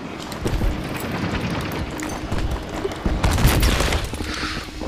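Video game battle with a dense stream of gunfire and booming grenade blasts, loud and continuous, building to heavier impacts near the end.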